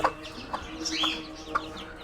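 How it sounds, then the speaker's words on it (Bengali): Thirty-day-old layer chicken chicks cluck and chirp softly nearby, short calls repeating a few times over a quiet background. "এই যে লেয়ার মুরগির বাচ্চাগুলো দেখেন তিরিশ দিন বয়স"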